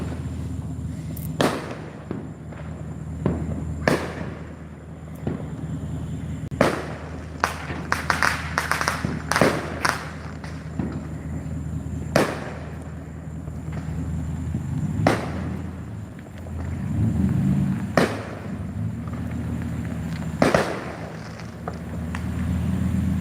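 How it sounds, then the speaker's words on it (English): Fireworks bursting from all directions outdoors, a steady stream of sharp, loud cracks and bangs at irregular intervals over a continuous crackling rumble, some near and some distant, with no talking. "I also got back from watching fireworks. They're coming from all directions."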